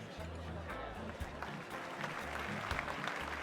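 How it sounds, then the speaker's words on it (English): Enthusiastic applause from banquet guests in Arknights, a continuous wash of clapping with low rhythmic thumps and murmuring beneath. "Applause rings out once more enthusiastic than before."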